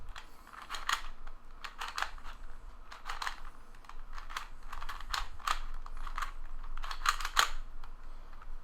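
V-Cube 2 two-by-two puzzle cube being twisted to scramble it, a run of quick plastic clicks and clacks in irregular clusters, close and fairly quiet.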